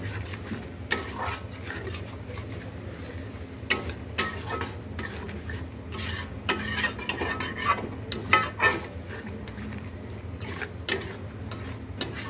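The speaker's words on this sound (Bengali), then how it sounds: "আর এখন একটু দিয়ে দেবো টক দই। এটাকে ভালো করে নেড়ে চেড়ে" A spoon stirs sour yogurt into fried spices and cinnamon in a pan for a potato and pointed gourd curry, with repeated scraping clicks and soft sizzling continuing throughout.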